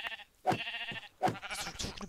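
A sheep in the video game Minecraft bleats twice in quick succession, fairly close and clear, followed by a few softer trailing sounds.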